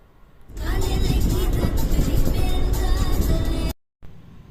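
A tour vehicle in Munnar starts off on the road with a loud, steady engine roar lasting a few seconds, then cuts off abruptly, with indistinct voices nearby.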